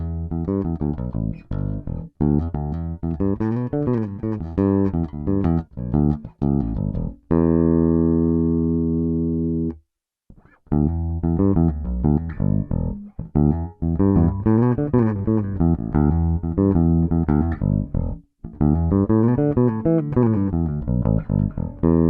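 Aria Pro II SB-700 bass guitar recorded direct (DI), playing a busy, punchy line of plucked notes with a few sustained held notes and short pauses, clear and up front with no other sounds.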